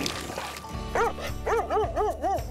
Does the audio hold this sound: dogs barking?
yes